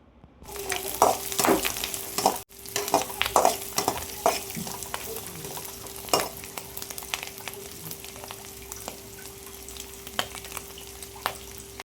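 Onions frying in a pan for egg noodles: a soft, steady sizzle with intermittent scraping stirs and utensil taps, close and fairly quiet, with no talking.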